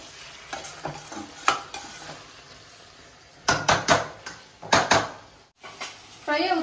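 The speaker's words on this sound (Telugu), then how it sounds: "ఫ్రై అవుతా ఉంది కదండి." Chicken fry sizzling in a pan with curd and masala, stirred in bursts of loud scraping and spatula clatter over a steady frying hiss, close up.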